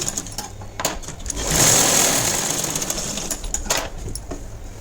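A sewing machine runs in a steady whirring burst while stitching a blouse, rising to a sustained buzz in the middle then easing off, fairly close in a quiet room.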